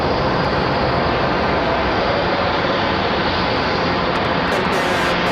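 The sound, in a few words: American Airlines Boeing 777 taxiing in to the gate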